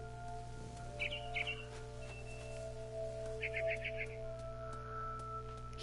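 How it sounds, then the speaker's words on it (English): A bird, a barn swallow in What Remains of Edith Finch, chirps in a few short bursts of quick twittering notes over a steady low hum, fairly faint and without talk. "Then I heard chirping outside my window."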